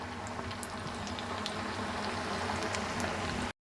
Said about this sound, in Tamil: இப்போ வந்து நம்ம போட்ட எண்ணெயில் வந்து பபிள்ஸ் வந்து கொஞ்சமாக தான் போயிட்டு இருக்குது.